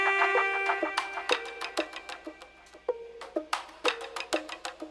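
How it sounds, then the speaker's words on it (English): Layered beat elements play together at a steady tempo: hand drums, a scratch, wood block hits, a saxophone sample and plucked guitar notes, with sharp repeated percussive hits over a sustained tonal bed, no talking. "You can see we have some hand drums, a scratch sound, and some wood block, as well as the sax sample and the guitar pluck"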